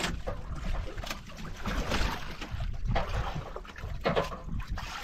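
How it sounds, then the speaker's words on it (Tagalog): A bangka outrigger boat motor drones on open water, with splashing and rushing wind around it, steady and fairly close. "Bangka na yan."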